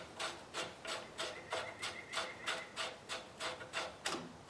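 Wrench ratcheting back and forth to tighten a bolt on a bike carrier adapted for an electric fat tire bike, a steady series of about thirteen short rasping clicks close by, with no talking.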